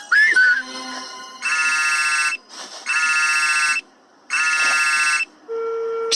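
Outgoing phone call ringing tone: three long electronic ring bursts with even gaps, loud and close, followed by a steady low beep, like a voicemail tone, with no talking over it.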